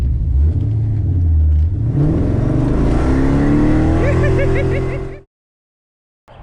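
An LS-swapped C4 Corvette with a big cam revs hard: a loud, choppy idle climbs into a rising roar that holds, then cuts off abruptly into silence, heard up close.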